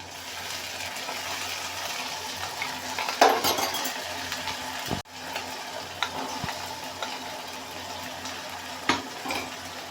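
Cumin, coriander, garlic, ginger and black pepper paste sizzles and fries steadily in a pan, with a spoon scraping and stirring through it and occasional clinks against the metal.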